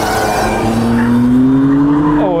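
A sports car on a race track, either a BMW M2 Competition or a Mercedes C63 AMG, slides with a rising tire squeal over a loud, close engine roar.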